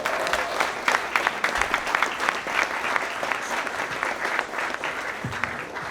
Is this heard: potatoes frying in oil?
no